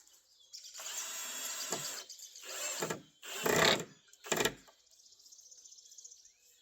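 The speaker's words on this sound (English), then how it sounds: "We're going to drill these through here" Power drill boring through wooden boards for a raised tomato bed support, a long whirring run followed by several short bursts as the bit bites and the motor stops and starts, close by.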